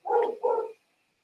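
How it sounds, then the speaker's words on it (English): A hound barks twice from the ground floor of a house, two short full-bodied woofs close together, with silence after. "the mail has arrived, so you'll hear a hound barking"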